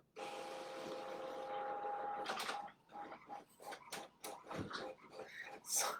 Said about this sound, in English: The printer is going crazy behind me.